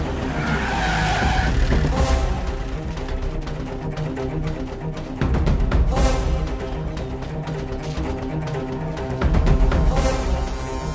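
A car skids hard with loud tire squeals and engine roar, in several sharp bursts spaced a few seconds apart, set against continuous driving noise.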